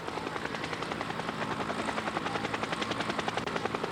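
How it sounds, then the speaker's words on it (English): Helicopters hover over a 1998 Giro d'Italia cycling stage, a steady loud chopping rotor thump with a fast regular beat throughout, no voices. "The noise of the helicopters"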